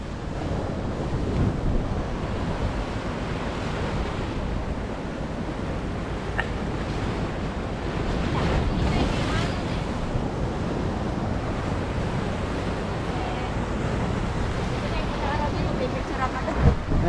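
Ocean waves rolling and crashing continuously, loud and close, with wind buffeting the microphone and voices talking now and then.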